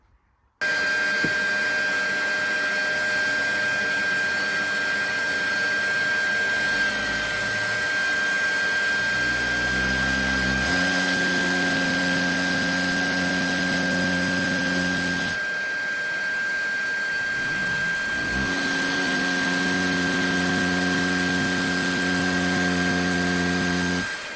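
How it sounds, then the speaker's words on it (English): A steady mechanical whine with a constant high tone runs for the whole stretch, loud and close, with lower motor rumbles shifting partway through. "Now we're going to plug the vacuum cleaner in."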